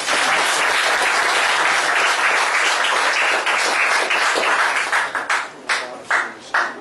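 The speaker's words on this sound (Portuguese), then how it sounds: "Uma salva de palmas para você." An audience at a lecture breaks into dense, sustained applause that fills the room evenly, then thins into a few scattered, separate claps as it dies away at the end.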